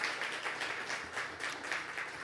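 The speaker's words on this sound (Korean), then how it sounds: "큰 박수로 환영해 주시기 바랍니다." Audience applause welcoming a presenter at a medical device research workshop, a moderate steady patter of many hands clapping, slightly distant in a hall, no speech over it.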